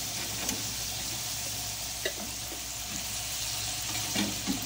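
Potatoes seasoned with salt and turmeric fry with a steady close sizzle, broken by a few soft stirring knocks and clicks spaced through the clip.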